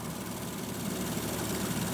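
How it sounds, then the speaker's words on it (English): 2021 Porsche Macan S engine idling, an even, quiet hum with a faint steady vibration that runs unbroken and close by for two seconds. "it's idling very happily and very quietly"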